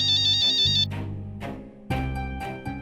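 An electronic ringtone plays loudly up close, a bright repeating melodic pattern that cuts out and starts again.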